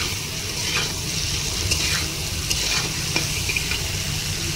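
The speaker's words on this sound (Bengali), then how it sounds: "প্রায় 2 মিনিটের মতন আলু আর পেঁয়াজটাকে ভাজা ভাজা করে নিয়েছি।" Potatoes and onions frying in a pan give a steady, close sizzle with occasional stirring scrapes and light taps throughout.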